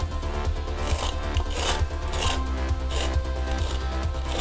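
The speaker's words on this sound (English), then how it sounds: "Okay, we're gonna put our mortar down." A trowel rasps across thin-set mortar being laid on a concrete floor for a tile repair, in repeated close scraping strokes with a rough, gritty texture and a steady rhythm.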